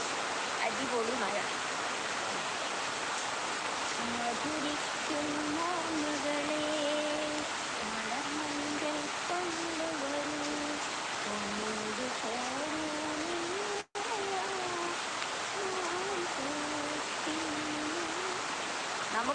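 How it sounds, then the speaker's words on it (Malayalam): Heavy rain falls in a steady, even wash of noise throughout, with a voice humming or singing a melody over it. "നല്ല മഴ പെയ്യുന്നുണ്ട്,"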